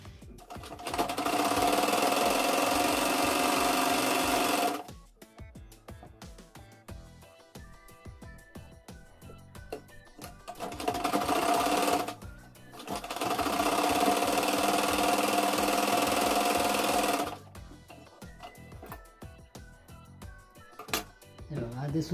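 Sewing machine stitching seams on a katori blouse, bursts of rapid mechanical rattling lasting several seconds each, separated by pauses where someone talks, loud and close.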